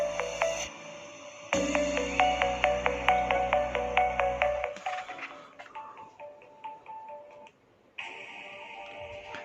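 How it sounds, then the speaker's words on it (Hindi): Tinny music leaks from Corseca 3213 wired on-ear headphones, a rhythmic plucked, ticking pattern followed by sustained synth tones, thin and small as if heard from outside the earcups, with no talk. "देखिए मैंने म्यूज़िक इसमें चला दिया है, तो काफ़ी अच्छे साउंड लग रहा है इसका।"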